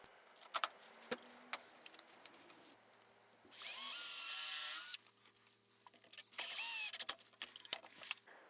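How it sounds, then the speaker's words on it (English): A power drill drives screws into the underside of a woodworking cross cut sled in two loud whirring bursts, the second one shorter. Clicks and the clatter of handling wood and tools fill the gaps, with no talking. "And then pilot and countersink and screw at each end on the underside of the sled."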